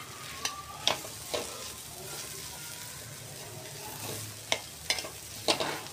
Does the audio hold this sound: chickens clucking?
no